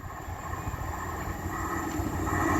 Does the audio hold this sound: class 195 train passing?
yes